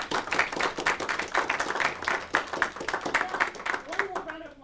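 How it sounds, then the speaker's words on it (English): An audience at an honors showcase presentation claps for a presenter, the applause rhythmic and fairly dense before thinning out, with a voice starting to speak as it fades at the end. "But let's do a round of applause for Tyler."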